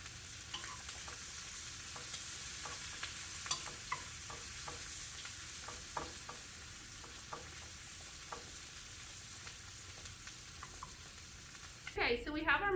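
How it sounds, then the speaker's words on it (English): Chopped Brussels sprouts frying in a pan over lowered heat, a faint steady sizzle with scattered soft pops and ticks, ending with a brief louder clatter and a voice. "now that I have my Brussels sprouts all chopped up, I'm going to add some into my pan"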